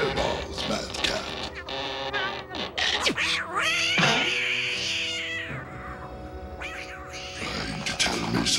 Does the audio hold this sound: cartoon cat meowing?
yes